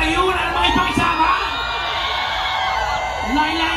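At a Taste of Manila event, a live comedy audience shouts, whoops and cheers together in a loud, sustained burst of voices.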